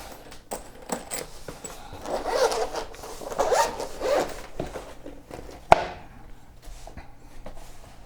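A zipper is drawn open around a padded neoprene case for a 7-inch Aputure VS2 video monitor. Close, crisp rasping pulls come in several bursts with short pauses, ending in a small sharp click, and no one speaks.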